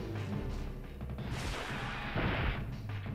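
Gunfire in the survival-horror video game Dino Crisis 2, a dense run of loud, rapid shots and booming impacts close up, continuing across the whole stretch with no speech.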